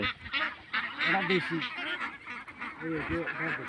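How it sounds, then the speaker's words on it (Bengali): Several white Belgian ducks honk and quack close by at a farm, their nasal calls overlapping in a busy, repeated chorus. "বেলজিয়াম হাঁস যেটাকে বলে"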